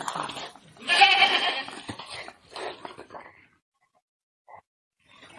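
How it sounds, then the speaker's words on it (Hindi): Household goat kept for Eid sacrifice bleating loudly and closely, with a long wavering call followed by shorter bleats and brief pauses. "घर दा बकरा है"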